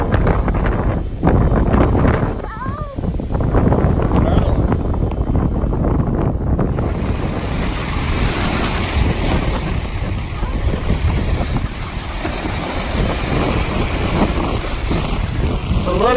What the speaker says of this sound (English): It's a little bit windy on this side of the island,